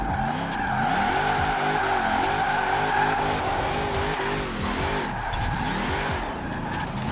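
Forza Horizon 4 car engine of a 2019 Mercedes-Benz X-Class whining as it drifts, tires screeching continuously over a steady, loud rev that rises and falls.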